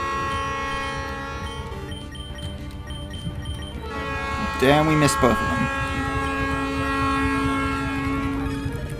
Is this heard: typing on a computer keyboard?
no